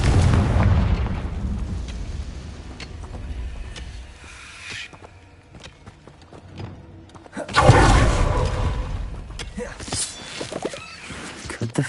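A Confringo spell detonates in a Harry Potter video game, a loud booming blast with a rumbling burst and crackling debris, preceded by softer fiery rumbles and scattered pops, with spoken spell incantations over the action.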